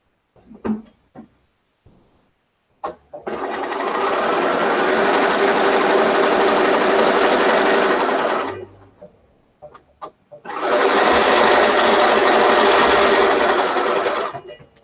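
A sewing machine stitches quilt pieces together in two long, steady runs, loud and close, its even motor whir separated by a short pause with faint handling sounds.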